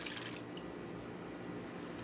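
Liquid dye poured into a container of water holding wool skeins, a soft continuous trickling and splashing, close but quiet, with brighter drips at the start.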